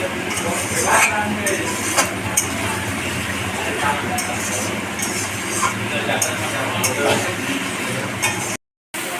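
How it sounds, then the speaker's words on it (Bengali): Spice paste with onion paste being stir-fried in a pan, faint sizzling under repeated clinks and scrapes of a utensil against the pot, with voices talking nearby. "এই মশলাটাকে পেঁয়াজ বাটা আছে তো, ভালো করে কষতে হবে"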